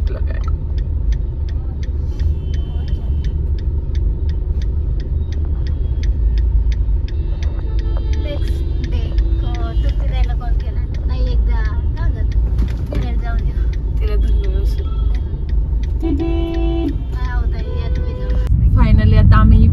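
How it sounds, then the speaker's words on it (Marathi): Heavy road traffic in Pune: a continuous low rumble of cars and other vehicles, close and steady, with voices talking and occasional horn-like tones over it. "आज बहुत ही ट्रैफिक लगा है"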